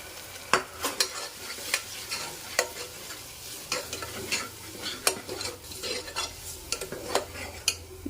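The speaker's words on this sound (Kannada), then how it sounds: "ಸ್ವಲ್ಪ ಹಸಿ ವಾಸನೆ ಹೋಗೋ ಥರ ಚೆನ್ನಾಗಿ ಫ್ರೈ ಮಾಡ್ಕೊಳ್ಳೋಣ" Masala frying in a pan for Mangalore cucumber sambar, a steady close sizzle broken by repeated sharp scrapes and taps of a spatula stirring against the pan, no talking.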